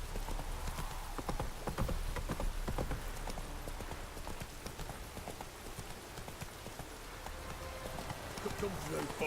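The horse Roach gallops in the Witcher 3 game, hooves clip-clopping in a fast continuous rhythm under rain-like patter and ambient game sound, with a voice speaking briefly.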